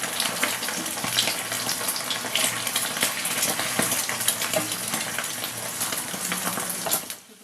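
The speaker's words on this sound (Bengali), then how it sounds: "দিয়ে ডিমটাকে ভালো করে ভেজে নেব।" Eggs frying in a pan give a dense, steady crackling sizzle close by, dotted with small pops and spatters, before it fades out abruptly at the end.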